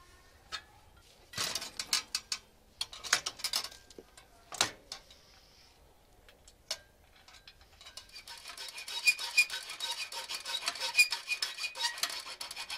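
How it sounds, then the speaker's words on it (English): Metal filing on an e-bike part so it fits a 48v 1000w hub motor, first as sparse scraping and clicking strokes, then as a denser, steadier rasp that builds up toward the end. "file away at it just to make it fit in there"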